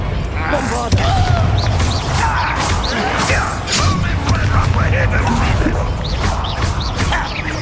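Explosions and crashing impacts from the Bombarda blasting spell in Hogwarts Legacy, loud booms and smashes amid busy combat noise, with voices speaking over the fight.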